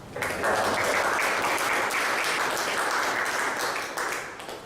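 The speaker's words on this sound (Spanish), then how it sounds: "Recibamos con fuertes aplausos al doctor Fernando Delgado Alvisuri" An audience applauds to welcome a doctor lecturing on the state's sanctioning power at a law diploma class, a full, even burst of clapping that swells in quickly and holds steady for several seconds before easing slightly.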